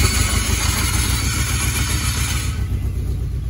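A Pontiac Fiero engine runs steadily in reverse gear after a clutch repair, a close, even mechanical hum with a low throbbing drone and no grinding, alone without voices.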